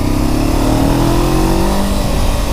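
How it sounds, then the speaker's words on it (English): A motorcycle accelerating on the road, engine pitch climbing steadily under loud, continuous wind and road roar close to the rider. "There we are, accelerating,"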